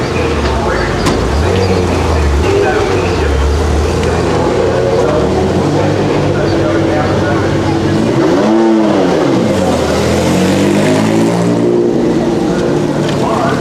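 Ferrari cars race past at Manfeild circuit in New Zealand, a loud, continuous engine roar with a car sweeping by in a rising and falling pass midway, under a commentator talking over a public address system.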